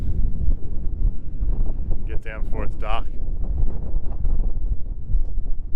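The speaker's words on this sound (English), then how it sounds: "those wind gusts really picked up, so we're going to head down now." Strong wind gusts buffet the microphone on Wolfang Peak in continuous roaring gusts, with a person speaking briefly over it in the middle.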